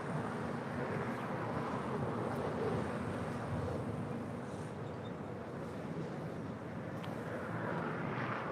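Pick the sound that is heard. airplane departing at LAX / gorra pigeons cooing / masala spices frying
airplane departing at LAX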